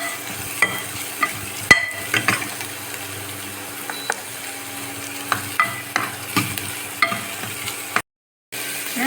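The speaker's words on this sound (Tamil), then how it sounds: "வெங்காயம் ஒரே ஒரு நிமிஷம் வதங்கிட்டோம்" Onions sauté in a pan for a bottle-gourd kurma, giving a close, soft sizzle broken by repeated spoon scrapes and stirring clicks, with a brief silence near the end.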